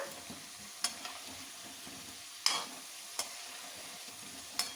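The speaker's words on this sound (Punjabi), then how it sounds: "ਹੁਣ ਸਾਡੇ ਆਲੂ ਵੀ ਵਧੀਆ ਤਰ੍ਹਾਂ ਫਰਾਈ ਹੋ ਗਏ ਆ" Potatoes for dum aloo fry in a pan with a soft, continuous sizzle. A few sharp clicks from stirring break through now and then.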